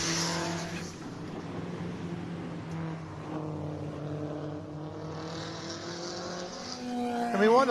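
Race car engines roar around the speed ring track at the American Speed Festival, with a loud sustained engine drone that rises and falls as cars pass, ending in a sharp climbing rev.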